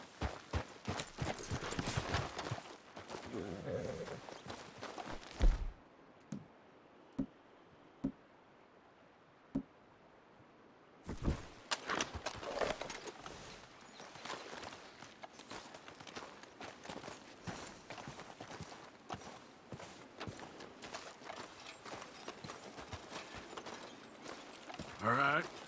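Horses walking in the video game Red Dead Redemption 2, slower and quieter hoof clops that stop for a hushed stretch of a few seconds and then resume, with soft voices in places.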